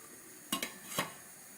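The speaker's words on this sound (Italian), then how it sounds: "adesso mettiamo il coperchio alla pentola" A metal lid set onto a pot of boiling pasta and bean soup, giving two quick clanks and a softer knock, close and fairly loud against a quiet kitchen background.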